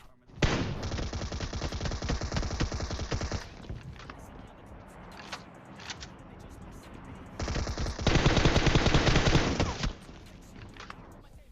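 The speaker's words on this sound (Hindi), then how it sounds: "देखो बिल्कुल अंधा प्री फायर देते हुए, गोली बर्बाद करते हुए घुसते हम अंदर" Sustained automatic gunfire from a shooter video game as a player storms into a house, two long loud bursts of rapid shots separated by a quieter stretch with scattered single shots.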